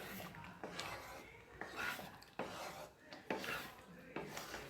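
Thick wheat halwa is stirred in a pan, giving soft, repeated scraping and rubbing strokes of a utensil against the pan, fairly quiet and close, coming in uneven bursts.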